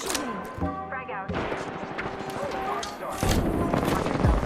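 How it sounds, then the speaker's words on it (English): Gunfire from a multiplayer Apex Legends match: loud, dense bursts of shots and impacts that keep running over several seconds, with other in-game battle effects mixed in. "Listen up, I'm getting shot at."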